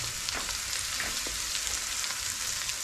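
Vegetables for spring rolls, seasoned with black pepper, fry in a pan with a steady, loud sizzle while being stirred, giving faint scraping shuffles throughout and no voices.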